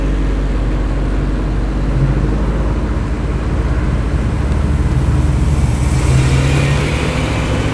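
Muscle cars leaving a large street car meet in Tempe, a loud continuous rumble of engines dominating throughout, close and steady with a slight swell near the end.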